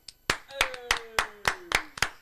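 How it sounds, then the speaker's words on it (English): About eight sharp, evenly spaced handclaps greet a guest on a casual show, brief and close, with a faint gliding tone underneath. "A round of applause to my guest, Kuya Kurt."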